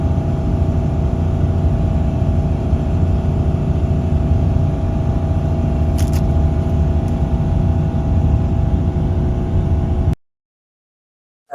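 A car drives along the road on a road trip, a steady engine drone and road rumble heard from inside, continuous and fairly loud before cutting off abruptly near the end.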